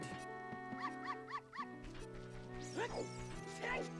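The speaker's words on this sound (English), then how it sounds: "That was a lot of dogs." Several dogs bark in quick succession in the Zelda: Ocarina of Time game over a steady electronic music bed, with yips and rising barks that repeat near and clear.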